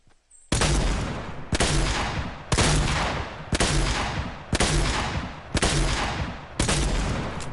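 A tactical shotgun fired from the hip in a video game, seven loud booming blasts at a steady, measured pace, each shot decaying before the next, with no talk over them.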